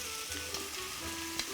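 Thick pork ribs frying in a pan give a faint, steady sizzle with a couple of small pops in a brief, quiet moment without speech.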